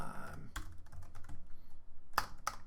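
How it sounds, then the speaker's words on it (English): Short bursts of keystrokes on a computer keyboard, a few separated clicks with a louder pair near the end, fairly close and quiet with no talking over them. "I'm just going to type"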